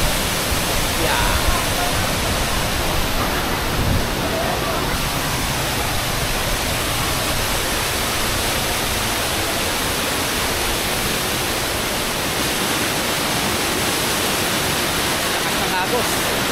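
Balagbag Falls in Real, Quezon roars as a steady, dense wash of rushing water from a waterfall with a strong current, loud and close and unbroken throughout, with a faint voice briefly audible under it.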